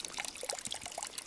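Mountain spring water in a snowy Tyrolean Alpine forest in Austria pours and trickles steadily at close range, with small splashing bursts and no voices.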